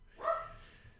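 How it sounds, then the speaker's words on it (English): Dogs barking indoors in a home: one short, fairly faint bark with a slight whimpering tail, heard alone at a distance. "Excuse the dogs."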